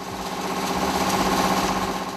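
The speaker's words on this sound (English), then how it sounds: "What we have here is a hammer mill, and it is equipment that is used to grind mealie meal" A hammer mill in an African village grinds corn into mealie meal, a loud steady mechanical whir and rattle with a continuous low rumble and no voices.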